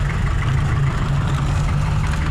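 Cars sit idling in dense traffic, their engines producing a steady, close, low droning hum with a faint higher whine, heard alone without talk.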